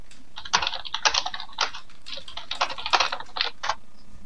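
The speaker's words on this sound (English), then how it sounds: "Oh, sorry for the keyboard." A computer keyboard is typed on hard and fast during a gaming stream, sharp clustered clacks in bursts, near and loud with short gaps between.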